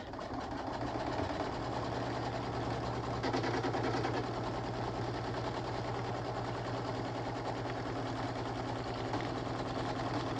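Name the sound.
sewing machine tacking fabric layers of a soft keytag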